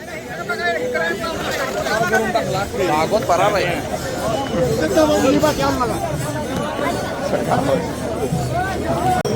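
A dense crowd of pilgrims on the Wakhari to Pandharpur procession, with a steady, loud babble of many overlapping voices close by and continuous chatter throughout.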